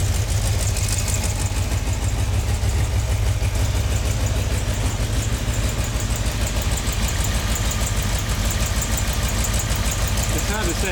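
Car engine idling steadily at about 650 RPM while the dwell is adjusted, with an air leak into the muffler; a continuous low rumble with a faint irregular knock runs close and loud throughout.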